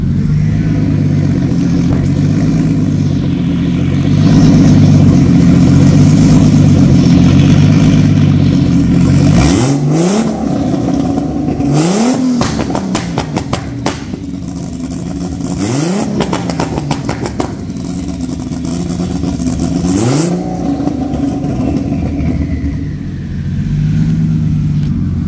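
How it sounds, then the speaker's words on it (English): Turbocharged drift car with a bigger turbo engine and anti-lag, idling loud and rough, then revved hard in four sharp bursts, each with crackling pops and bangs from the anti-lag, recorded close with no talking. "It seems to spool up much better with the anti-lag."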